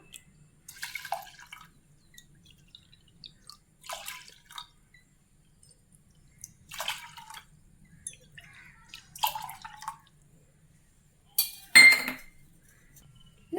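Moong dal is washed in water in a kitchen pot, with intermittent sloshing and clinking splashes in separate bursts separated by near silence, close and moderately loud.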